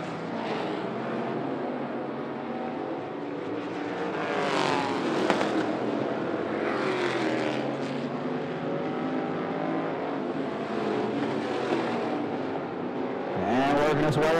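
Street stock race cars at 411 Motor Speedway roar continuously as they race down the back straightaway, their engine pitch rising and falling as cars pass, with faint commentary underneath.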